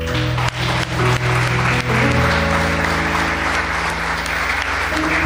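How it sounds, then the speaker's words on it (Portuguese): Church congregation giving a round of applause after a sermon, sustained clapping layered over a held musical tone, steady and fairly loud throughout with no talking. "Dê uma salva de palmas."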